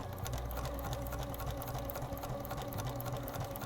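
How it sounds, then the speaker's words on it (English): A sewing machine stitches over tape on clear vinyl, giving a continuous close mechanical whir with fast needle ticking throughout. "And then I'm stitching over the tape again."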